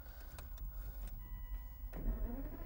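An Aston Martin DBS engine cranks and catches, a low rumble building under a brief starter whine and settling into a deep idle close by, with no talking.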